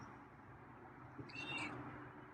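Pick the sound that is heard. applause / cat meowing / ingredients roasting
cat meowing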